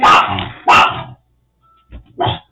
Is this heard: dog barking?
yes